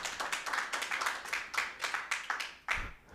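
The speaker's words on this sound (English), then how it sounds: "A round of applause to both of them, please." Audience clapping for both teams at a ministry debate, a quiet, fairly distant patter of hands in rhythmic bursts that thins out and ends with a brief thump.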